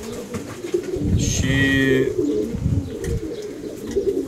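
Racing pigeons cooing close by in a loft, a few soft throaty coos with a brief higher chirp, under someone speaking quietly.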